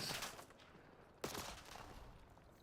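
Gunfire from a heavy-recoil weapon in the video game Call of Duty: a sharp burst of shots, then a loud report about a second in, trailing into a busy, noisy game mix.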